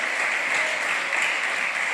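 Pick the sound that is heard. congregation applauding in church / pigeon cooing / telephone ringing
congregation applauding in church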